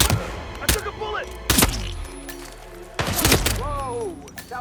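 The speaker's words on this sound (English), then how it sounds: "That was a gunshot." Gunshots in Hitman 3 on the Dartmoor level: several sharp, loud cracks in separate bursts, mixed with game voices and music.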